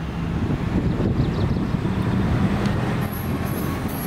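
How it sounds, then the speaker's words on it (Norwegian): A Danish IC3 passenger train rolls steadily past with a continuous low rumble of wheels on rails, wind buffeting the microphone throughout. "Her har vi IC3-toget."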